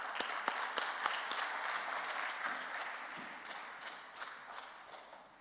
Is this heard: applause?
yes